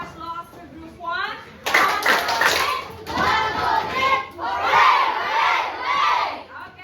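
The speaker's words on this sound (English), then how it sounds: "can you give a hooray applause to group 1?" Children in a classroom cheer hooray and clap for a group after its earthquake safety demonstration; loud, excited mass shouting in several bursts, with a teacher's voice briefly heard at the start.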